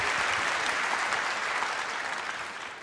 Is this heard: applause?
yes